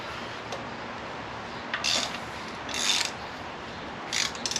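A ratchet loosens an alternator bolt on a 1970 Ford Falcon engine, with three short bursts of metallic clicking heard close by over a steady background hiss.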